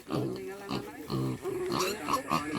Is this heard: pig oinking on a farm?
yes